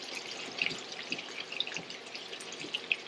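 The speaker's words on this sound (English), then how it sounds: "we're just going to pour it into this container, make it a little easier to pour in" Liquid is poured into a container in a home kitchen while cooking jambalaya, a soft trickling splash with scattered drips and small bright plinks, close and fairly quiet.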